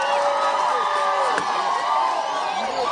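A large outdoor crowd cheers and shouts continuously at a political rally with the president in Homa Bay, a dense sustained roar of voices and whoops with no clear applause claps.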